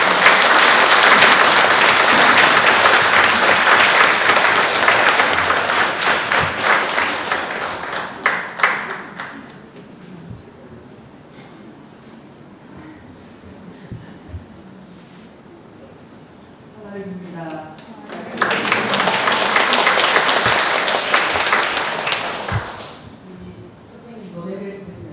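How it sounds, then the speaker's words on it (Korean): Audience at a commemorative mass for the 13th Japanese military comfort women memorial day breaks into loud, sustained applause, fading out, then a second burst of clapping returns later, with voices in between. "큰 박수로"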